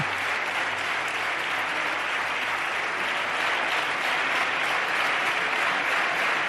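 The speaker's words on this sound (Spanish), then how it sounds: "toda la bancada socialista al unísono, aplaudiendo también" Sustained, dense applause in Spain's Congress of Deputies after Pedro Sánchez's investiture speech, the whole chamber clapping as a steady even roar.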